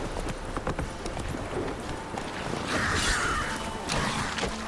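Roach, a horse in The Witcher 3, gallops with steady rhythmic hoofbeats clip-clopping close by, while a brief higher-pitched whinny-like sound rises midway.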